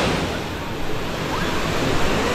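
Ocean surf at Pitangueiras beach in Guarujá rushes in a loud, steady, broadband wash with wind buffeting the microphone, no distinct breaks standing out.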